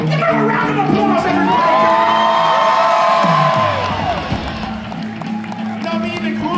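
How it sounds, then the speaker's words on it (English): At a live rock show in Albuquerque, a concert crowd cheers and whoops loudly while a voice talks over amplified sound, the roar easing toward the end. "You can give her a round of applause,"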